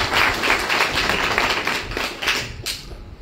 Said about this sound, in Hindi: तो इनकी तालियों से गड़गड़ाहट के साथ